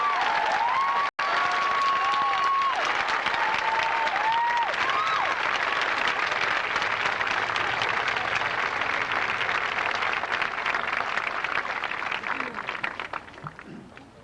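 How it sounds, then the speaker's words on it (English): Graduation ceremony audience giving a big round of applause in a large hall, sustained dense clapping with a few whoops and whistles early on, holding steady before tapering off at the end. "please, a big round of applause."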